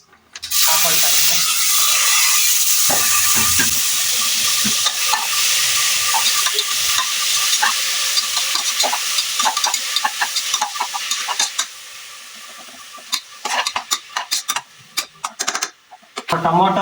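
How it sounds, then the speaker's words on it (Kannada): Onion, tomato and chili sizzle steadily in hot oil in a pan for mushroom biryani, with a spoon scraping and stirring throughout and a voice talking at points as the frying quiets near the end. "ಟೊಮೊಟೊ, ಈರುಳ್ಳಿ ಸ್ವಲ್ಪ ಬೇಯೋ ತನಕ ಎಲ್ಲ ಫ್ರೈ ಮಾಡ್ಕೊಡೋಣ."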